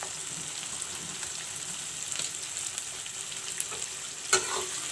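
Onions with bay leaves frying in a pan, a steady soft sizzle throughout with faint scattered crackles and one brief sharper clink near the end.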